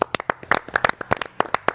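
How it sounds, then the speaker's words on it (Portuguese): A few people clap in a sports radio studio, giving sharp, close, uneven hand claps in a brief, sparse burst. "Uma salva de palmas."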